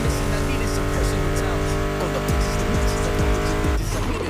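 A loud, steady Mustang GT muscle car engine drone in the video game The Crew Motorfest runs throughout with rising pitch sweeps of revving and gear shifts, mixed with a driving music track.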